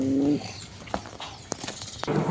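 A red tiger capuchin hen pigeon coos in a low, rounded call at the start, followed by a few soft, scattered bird calls and light rustling.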